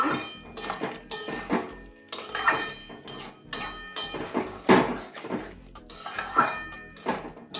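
A spoon scrapes and clanks against a metal pot while taro curry with garam masala is stirred, giving a busy run of close, irregular metallic knocks and scrapes.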